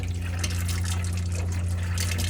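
Cold water drawn by an electric pump through a Swift 580PR caravan tap, a steady close rushing flow over a constant low pump hum, with no talking.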